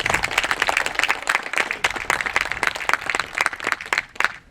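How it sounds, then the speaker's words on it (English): Audience applause at a water system rebuild groundbreaking ceremony in Rio Dell, California, with close, dense clapping that stays steady and fairly loud throughout, with no talk over it. "Can we please give them a round of applause?"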